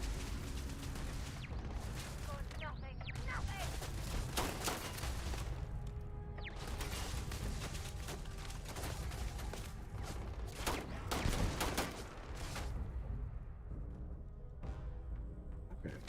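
Gunfire in the game Starfield crackles in dense, continuous bursts across the whole stretch, loud and close, with volleys overlapping and no clear pauses.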